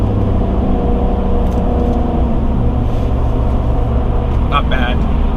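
A lifted Chevy Silverado Trail Boss tows a heavy load at wide open throttle, its engine droning loud and steady from inside the cab and climbing gradually in pitch, while someone talks over it.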